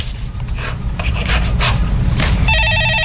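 A telephone rings in a TV stock-market call-in program studio just before a call is answered, a bright repeating electronic ring cutting in near the end over a steady background rumble.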